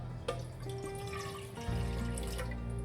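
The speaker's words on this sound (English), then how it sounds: "into this saucepan, I am going to add the water" Water runs from a tap into a saucepan at a stovetop, a steady splashing stream that deepens in pitch as the pan fills, with a brief clunk partway through.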